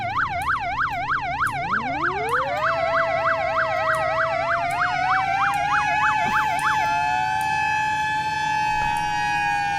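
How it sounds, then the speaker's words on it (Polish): Emergency vehicle sirens from the video game Flashing Lights, loud and close: a rapid wailing yelp that slows into a long rising and falling wail, with no voices. "chociaż te syreny są takie głośne"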